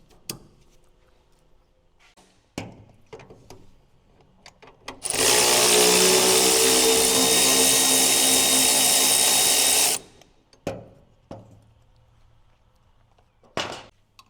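A power tool, likely an impact driver, runs in one loud sustained burst of about five seconds while removing a lower shock mount during a 4-inch lift install on a Suzuki DB52/DA63, with scattered metallic clanks and handling noises before and after.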